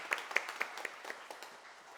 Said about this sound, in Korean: 격려의 박수 한번 보내주셨으면 감사하겠습니다